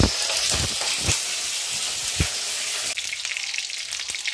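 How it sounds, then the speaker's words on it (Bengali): Whole pointed gourds (potol) frying in hot oil give a steady, dense sizzle with a few sharp crackles and spatters, close and continuous, and a slight drop in intensity near the end. "এইদিকে পটল মোটামুটি ভাজা হয়ে গেছে"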